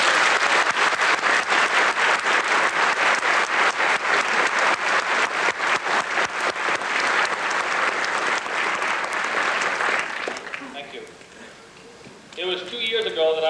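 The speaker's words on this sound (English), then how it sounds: "I'd ask all of you to join me in a round of applause for the people." Sustained applause from an audience at a police academy graduation ceremony, dense, steady clapping lasting about ten seconds and then fading out, followed by a brief burst of sound near the end.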